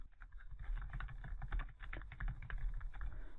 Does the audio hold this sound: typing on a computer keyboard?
yes